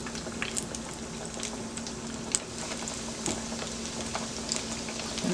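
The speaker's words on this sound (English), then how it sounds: "If you hear that noise going, it's my chicken that's frying." A second batch of chicken wings frying in hot oil, giving a continuous dense sizzle with scattered pops and crackles throughout, close and steady, without speech.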